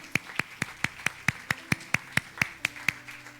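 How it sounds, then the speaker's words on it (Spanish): Steady, evenly spaced claps at a brisk beat ring out in a church service, about a dozen sharp hits in a row with no voices over them, like a congregation clapping in unison. "Denle un fuerte aplauso a Jesús"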